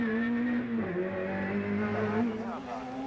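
A race car in the 1988 Bathurst race heads down toward Forrest's Elbow, its engine note droning close by, dipping and rising as it changes speed through the run.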